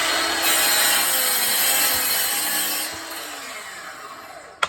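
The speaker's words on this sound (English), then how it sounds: "I set up a clamp on the miter saw, and now I'm cutting them to size" A miter saw whines steadily through wood blocks for a few seconds, then spins down, ending with a sharp click.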